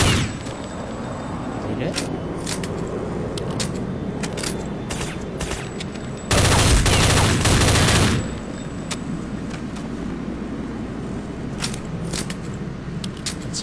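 Gunfire rattles through Counter-Strike: Condition Zero Deleted Scenes gameplay in a downtown street, with scattered sharp shots across the scene and a loud sustained burst in the middle, and someone speaking Japanese briefly over it.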